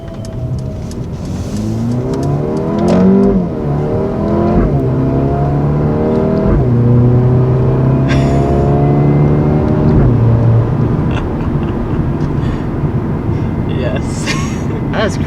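A 2020 Mercedes-AMG CLA 35 accelerates hard in manual mode with paddle-shifted gear changes: loud, close engine revs climb in pitch, drop sharply at each quick upshift, then climb again, several times in a row.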